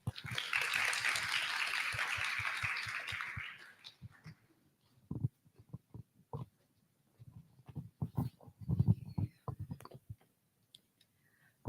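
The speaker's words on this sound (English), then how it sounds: "please give a round of applause to Mrs. Fati Ramadanti." An audience applauds at a business economics conference: a dense, steady burst of clapping lasts a few seconds and then dies away, leaving scattered clicks and faint voices.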